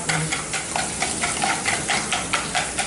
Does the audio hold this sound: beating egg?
yes